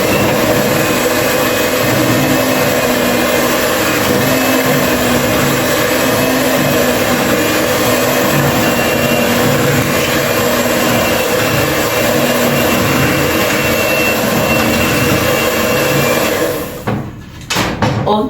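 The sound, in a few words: electric cake mixer stirring red velvet cake batter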